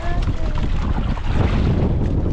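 Strong wind buffets the microphone at sea aboard a small fishing boat, a loud rushing roar over the boat's rumble and water noise, with a voice partly audible.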